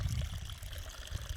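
Irrigation water mixed with cow dung biogas slurry flows through a field, giving a steady low gurgle and trickle that runs continuously and moderately close throughout.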